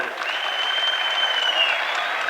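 Steady applause from a crowd at a tournament's opening ceremony, dense clapping sustained throughout with a faint high tone running across it.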